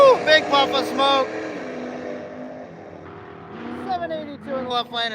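Race trucks drag racing at a Miles of Mayhem event, drivers pedaling the throttle, engines surging and fading in uneven revving bursts, with voices talking over the engine noise.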